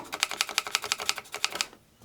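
A pencil scratching over a ridged planed wooden surface makes a quick run of about ten dry, clicking ticks up close as it catches on the ridge, then stops.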